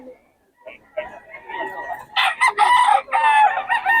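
Several roosters crow loudly and repeatedly at a crowded market in Bocaue, with overlapping cock-a-doodle-doo calls and clucks close by, while people talk in the background.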